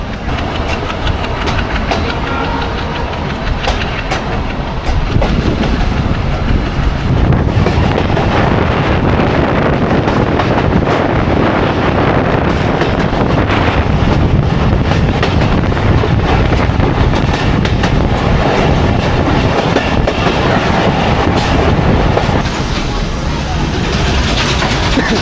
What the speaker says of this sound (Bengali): রেলওয়ে স্টেশন থেকে ছেড়ে দিল Betna express train, Betna commutator